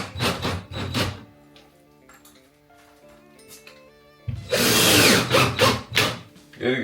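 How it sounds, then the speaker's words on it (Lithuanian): A power drill drives screws into drywall in loud bursts, whirring and grinding near the start and again in a long, harsh run near the end, with quieter tonal tool noise between. "Sukat varžtus."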